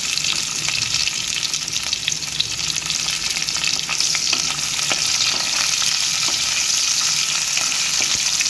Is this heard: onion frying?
yes